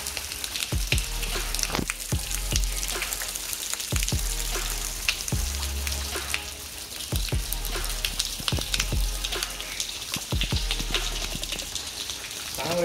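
Spring water at Manchukonda falls into a hand, pattering close and continuously with irregular louder splashes. No one speaks.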